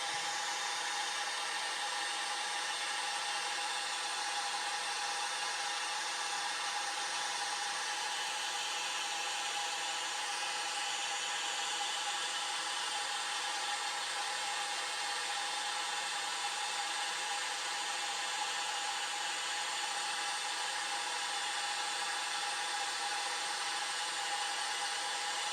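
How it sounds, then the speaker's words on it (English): A hairdryer blasts steadily to dry freshly painted WWI German infantry miniatures, a constant close, loud whooshing whine that runs unbroken with no talk. "just blast it with a hairdryer just to dry it out"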